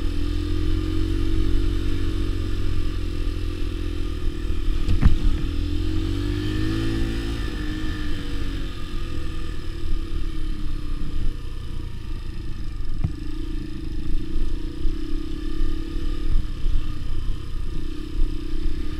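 A Keeway RKV motorcycle ridden off-road over rough terrain, its mid-pitched engine droning steadily and loudly throughout with slight rises and dips in revs, heard close up and alone with no talking.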